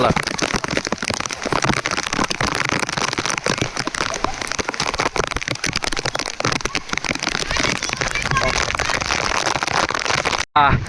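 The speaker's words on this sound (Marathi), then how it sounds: "परत पाऊस" Heavy rain pours down in gusty wind at a cool hill spot in Lanja, a dense, loud, continuous patter close by with faint voices mixed in underneath.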